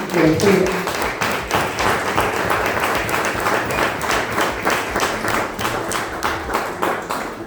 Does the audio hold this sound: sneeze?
no